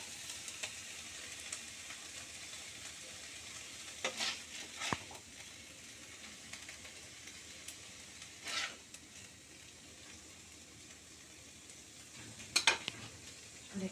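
Fried spinach chicken scraped from a pan into a bowl with the gas turned off, soft sizzling residue under scattered spoon scrapes and a few sharp metallic knocks.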